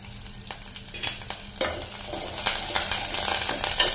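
Onions, garlic and curry leaves sizzle in hot oil for a banana-flower sambar, with a spoon repeatedly scraping and stirring through the pan; the frying hiss builds and stays loud and close.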